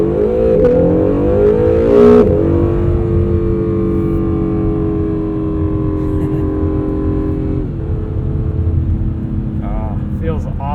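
A 2017 Acura NSX with carbon ceramic brakes accelerating hard from a standstill, engine note climbing through rising gear sweeps with shifts, close and loud inside the cabin, with a driver talking over it.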